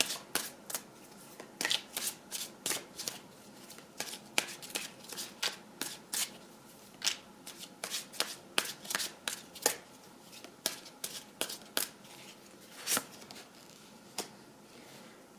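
Tarot cards are shuffled and drawn, producing a long run of crisp riffling snaps and slaps at an uneven rhythm, close and fairly quiet, with no voices.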